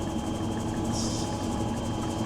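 A tractor engine idles in an evening paddock, a steady low rumble with a faint rhythmic throb that holds even throughout, close and unbroken.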